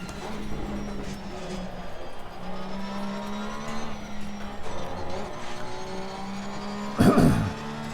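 A Porsche race car laps the Paul Ricard circuit, its engine droning steadily from the cockpit with rises and falls in revs as it changes speed, and a short sharp burst near the end.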